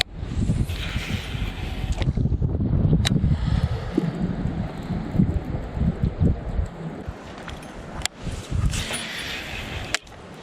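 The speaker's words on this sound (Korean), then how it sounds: "바람은 그래도 살짝 불긴 하는데" A light wind blows over a lake, rumbling and rustling against the microphone in uneven gusts, with a few sharp clicks and knocks scattered through.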